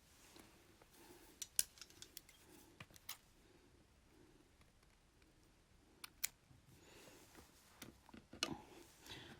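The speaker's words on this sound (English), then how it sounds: "Now, this has got caught in the back, so I can cut it off." Small scissors snip off a caught thread while making a Death's Head button, producing a few sharp, quiet clicks and snips that come in loose clusters.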